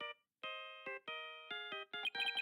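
Ringtone from Phoenix Wright: Ace Attorney - Dual Destinies: a bright electronic melody of repeated tonal beeps in a steady rhythm, clear and alone with no talking.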